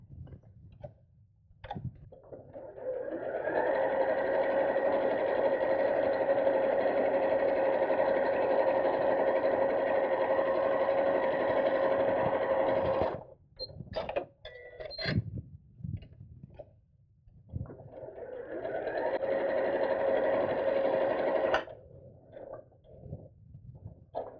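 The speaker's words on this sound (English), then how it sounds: "we're going to sew them together to make tubes" A sewing machine stitches purse organiser pocket pieces into tubes, two long steady whirring runs up close, separated by a stretch of clicks, handling and quiet fabric shuffling.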